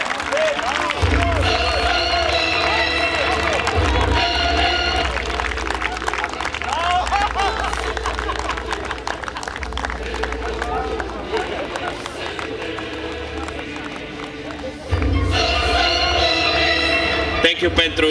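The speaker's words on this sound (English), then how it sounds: "A big applause for him and thank you for being with us tonight." A large audience at an outdoor summer-night dog show in Split applauds the Best in Show judge, dense sustained clapping and crowd noise under a loud, booming PA backdrop, with a swell near the end.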